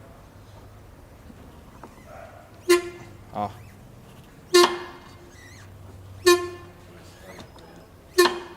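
A simulated stabilizer bar bushing noise on a Fox car, four short sharp creaking squeaks spaced about two seconds apart over quiet background, with a voice speaking briefly between them.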